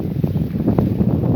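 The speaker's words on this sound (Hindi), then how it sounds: "तेज़ हवा है" Strong wind blowing outdoors by date palm trees, a steady broadband rushing with low buffeting gusts against the microphone throughout, loud and continuous with no speech.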